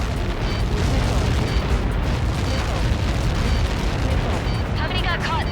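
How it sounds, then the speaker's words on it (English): Explosion in the video game Ace Combat 7, a loud, dense rumbling blast that fills the whole stretch with sustained booming roar and crackle, with a brief radio-like voice near the end. "How many got caught in that explosion?"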